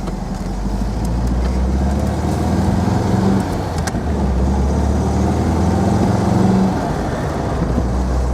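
A 1980 MG B, Snapdragon yellow with only 78 miles, drives and accelerates through its gears, the engine note droning loud and steady with brief dips at the shifts and no voices.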